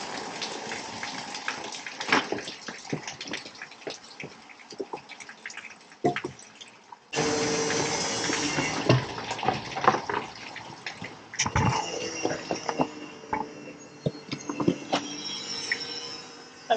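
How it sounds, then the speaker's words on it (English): Water splashing and dripping from a neighbouring moored boat's bilge pump discharge on a brackish river, irregular drips and trickles that swell into a steadier gushing spell midway, moderately close and fairly quiet. "there's next door pumping bilges out"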